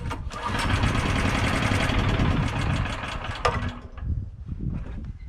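A Triumph TT600 motorcycle set up as a track bike turns over and catches, running with a busy, uneven mechanical clatter up close before settling to a rougher, lower idle.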